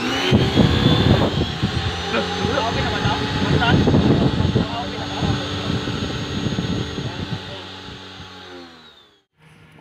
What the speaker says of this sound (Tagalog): grabe yung lakas ng tubig na lumalabas at pwede nang makatanggal ng mga dumi na nakadikit sa mga sasakyan